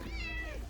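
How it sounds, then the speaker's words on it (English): A domestic cat gives one short, close meow with a rising then falling pitch, heard alone against a quiet indoor background. "don't mind my cat"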